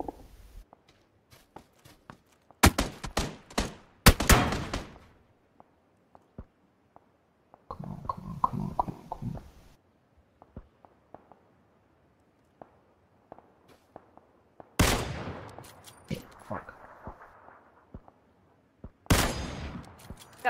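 Gunfire from the video game PlayerUnknown's Battlegrounds comes in several sharp, loud bursts of rapid shots separated by quiet gaps, with faint footsteps and small clicks in between.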